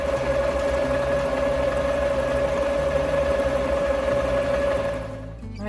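Sewing machine stitching satin fabric for a bonnet, a steady close mechanical hum and rapid needle clatter running continuously, then slowing and stopping at the end.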